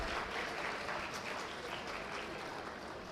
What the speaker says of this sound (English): Ladies and gentlemen, a big round of applause to all the former deans who are here.